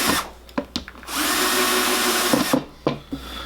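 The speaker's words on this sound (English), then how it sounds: "you have to pre-drill for these" Power drill pre-drilling holes for a tandem drawer locking device, a steady whirring run of about a second and a half between short bursts and clicks, close and clear.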